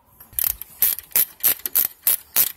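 A ratchet wrench loosens a long bolt on a Jeep Wrangler JK 3.8L valve cover, making close, crisp clicking bursts in about seven quick back-and-forth strokes with short pauses between them.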